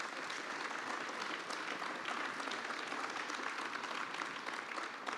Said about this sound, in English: I wonder if we could give them a round of applause.